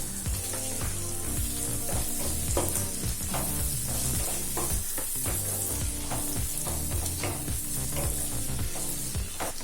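Onions and tomato sizzle steadily in a hot pan for Kerala kadala curry, a loud continuous frying hiss with frequent stirring scrapes and clinks throughout, close up and without talk.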